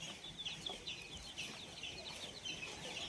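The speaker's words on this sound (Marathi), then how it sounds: "इकडे बघू शकता एक कोंबडी 25 पिल्लं" Many small chicks peep in high, rapid chirps all at once, with faint clucking from a desi village hen among them.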